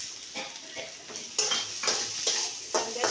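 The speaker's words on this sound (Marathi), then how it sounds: "आता इथं तेलात कांदा घालते" Onion dropped into hot oil and stirred, a steady sizzle with repeated scraping strokes of a spoon against the pan, close and fairly loud, no talking.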